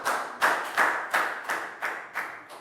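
A Year 3 maths class claps together in a steady rhythm, about seven sharp unison bursts at even intervals, close and moderately loud, with no talking over them.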